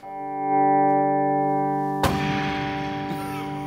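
A spring reverb unit is kicked: a held, sustained tone is cut by a sudden loud crash of rattling springs, followed by a dense, ringing metallic decay that fades over a few seconds.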